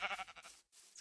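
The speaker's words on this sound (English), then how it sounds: "black sheep." Sheep in Minecraft bleat in a short, clear burst up close, followed by a brief pause and a faint trailing tail.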